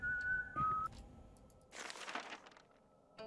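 A janitor in the horror game White Day: School Called Labyrinth whistles a faint, wavering tune, with soft game ambience and scattered noises around it.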